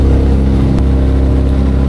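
Electric motor of a Pipistrel Taurus G2.5 self-launching glider running at about 20 kilowatts, a loud steady whine and drone that holds constant close by in the cockpit.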